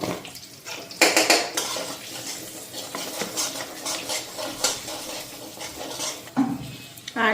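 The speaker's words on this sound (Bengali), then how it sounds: "তো এই যে নিলাম জিরা ধনিয়ার গুঁড়া, তেলটার মধ্যে একটু ফ্রাই করে নিই" Cumin and coriander powder fry in oil in a pan while a utensil scrapes and clanks against the metal, with a faint sizzle beneath irregular stirring knocks.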